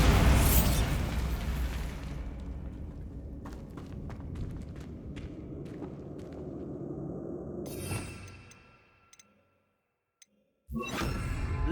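A Bombarda spell explosion in Hogwarts Legacy, a loud blast at the start that rumbles and fades, followed by scattered light debris and footstep ticks, then near silence and a second burst of noise at the end.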